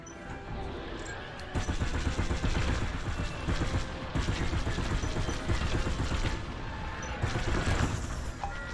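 Rapid starfighter cannon fire in the Star Wars Squadrons space combat game, a dense sustained barrage of shots and crackling impacts running nearly throughout, surging louder in bursts.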